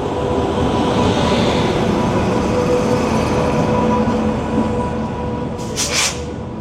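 Shatabdi Express pulling out of Chandigarh station at dawn, a steady loud rumble of rolling rail wagons that holds throughout, with a brief high screech near the end.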